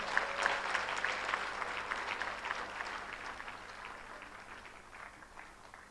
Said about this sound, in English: Deserve a better round of applause.